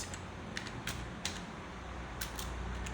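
Short bursts of keypresses on a computer keyboard typing out a print command, light clicks spread unevenly over a low steady room hum, close by with no voices.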